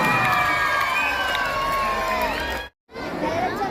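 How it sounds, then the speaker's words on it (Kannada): A loud crowd of children and adults cheers and shouts to welcome KG teachers onto a stage, a dense roar that cuts out abruptly near the end and then resumes. "ಅಲ್ಲಿ ಜೋರಾದ ಚಪ್ಪಾಳೆ ಮೂಲಕ ಬರಮಾಡಿಕೊಳ್ಳೋಣ"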